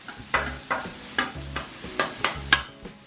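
Cheesesteak meat is separated and chopped on a hot griddle, with pepper jack cheese melting on top: a run of sharp metal spatula scrapes and taps, about eight in a loose rhythm, over a low sizzle, close and fairly quiet, no talking.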